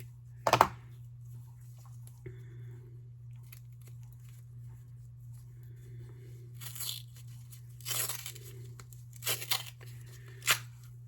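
A cast mold piece is torn apart by hand after being snipped with small snippers, giving brief crackling rips at the start and a few more short tearing bursts toward the end, close and fairly quiet over a steady low hum.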